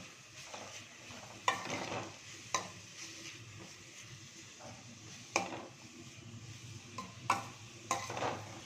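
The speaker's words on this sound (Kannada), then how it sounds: "ಸ್ವಲ್ಪ ಹುರ್ಕೊಳ್ತೀನಿ ತುಪ್ಪದಲ್ಲಿ." Carrot and pumpkin stirred and frying in ghee in a pan, with a soft steady sizzle and several sharp scraping knocks of a spoon against the pan at irregular intervals.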